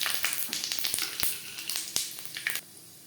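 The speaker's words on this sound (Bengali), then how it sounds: "4 চামচ রিফাইন্ড অয়েল গরম করে নিয়েছি। ফোড়নে দিয়ে দেবো একটা শুকনো লঙ্কা" A dry red chili and five-spice tempering sizzle in hot refined oil in a pan. The crackling is busy and close, with sharp pops for a few seconds, and then it quiets abruptly.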